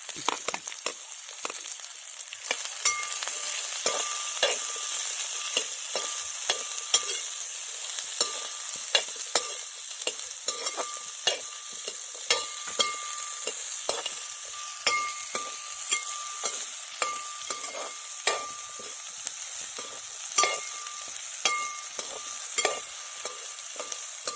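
Chopped onion frying in a pan for a Kerala-style ivy gourd curry, a continuous bright sizzle broken by frequent scrapes and taps of a stirring spoon, steady and close.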